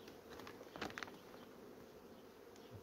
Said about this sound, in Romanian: ce de albinuțe sunt.